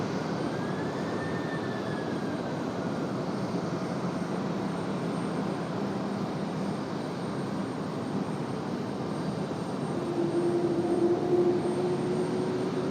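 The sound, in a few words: Airbus A350 airliner taking off at Raleigh-Durham airport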